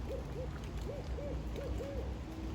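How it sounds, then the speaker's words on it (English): A barred owl calls outdoors, a series of about six low, rounded hoots in a quick rhythmic sequence, faint and somewhat distant over a soft background hiss. "And that is the barred owl."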